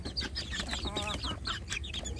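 A crowd of young free-range village chicks cheeps inside a plywood rearing box, continuous overlapping high peeps close by with some lower clucking underneath.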